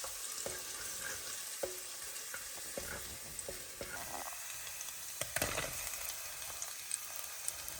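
Okra and softened onions fry together in a pan for a prawn and okra curry: a soft, even sizzle with scattered light taps and scrapes of stirring throughout.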